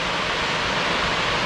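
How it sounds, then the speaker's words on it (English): A small waterfall in the woods gives off a steady, full rush of falling water, loud and close with no pauses or other sounds. "I think this is going to be a pretty nice little waterfall here."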